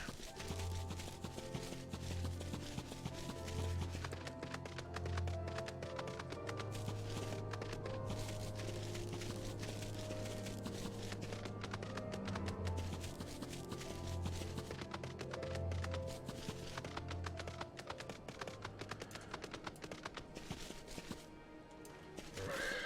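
A horse in Final Fantasy XIV clip-clops at a steady walking rhythm, with hoofbeats repeating under a soft musical background, fairly faint throughout.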